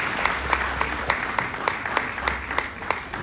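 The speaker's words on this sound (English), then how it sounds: "we need to give a round of applause for Her Excellency" An audience applauds at a gathering, a steady wash of many hands clapping with distinct sharp claps recurring through it, alongside a low hum.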